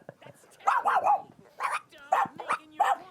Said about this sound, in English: There's a dog in the studio. That's a Chihuahua.